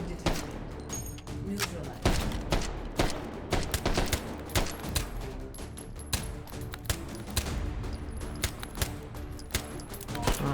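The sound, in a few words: gunfire in the video game Hot Dogs, Horseshoes & Hand Grenades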